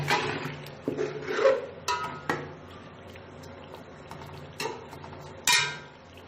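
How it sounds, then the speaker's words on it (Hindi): Chicken and chopped tomatoes frying in a pot, with scattered scrapes and clinks of a utensil stirring against the metal over a low, steady sizzle, no voices. "अब मैंने इसे मज़ीद इस वक्त तक फ्राई करना है जब तक ये टमाटर जो हैं ये मिक्स ना हो जाए।"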